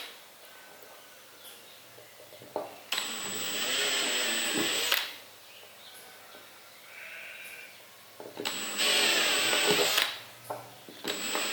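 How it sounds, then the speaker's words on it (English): A power drill whirs in two bursts of a couple of seconds each, pre-drilling holes in a wooden rifle stock, with quiet pauses between. "I will go round and just pre-drill those a little bit"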